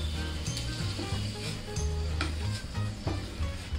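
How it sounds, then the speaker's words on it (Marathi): Garlic frying in a small amount of oil for a flaxseed chutney, a continuous close sizzle with a spatula scraping and stirring at an uneven pace. "1-2 मिनिट फ्राय करून घेऊया। लसूण पण आपला छान फ्राय करून झालेला आहे।"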